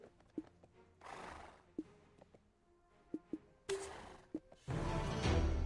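Horse neighs, with hooves clip-clopping, appear at intervals amid sharp knocks and bursts of noisy rushing in the video game Black Desert.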